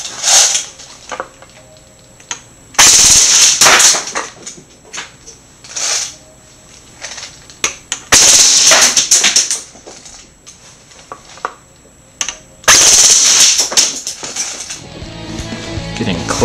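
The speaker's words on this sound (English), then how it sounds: "Systema Magnum motor installed in my A&K SR25 with a Cheetah MOSFET." An A&K SR25 airsoft AEG fitted with a Systema Magnum motor and Cheetah MOSFET on an M130 spring fires three loud, rapid full-auto bursts of crisp mechanical rattling, separated by quieter handling clicks.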